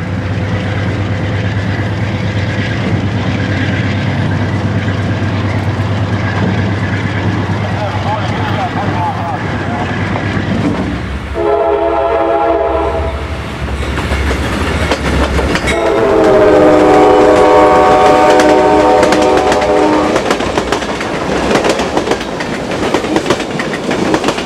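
A CSX office car train rolls past with loud clattering wheels, then sounds its horn in two sustained blasts, the second one longer, as a narrator speaks over the scene.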